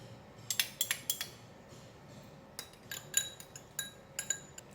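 Sesame oil, Chinese cooking rice wine, light soy sauce and oyster sauce are stirred together in a bowl, giving close, light clinks of a utensil against the dish in short irregular clusters, quiet with no speech.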